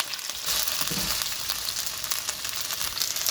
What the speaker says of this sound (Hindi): अब भिंडी फ्राई करते वक्त मैं थोड़े से इसमें ड्रॉप्स डालूंगी लेमन के